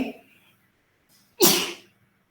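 A single sharp sneeze bursts out in a classroom during a calculus lecture, loud and close, after a brief murmur of voice at the start.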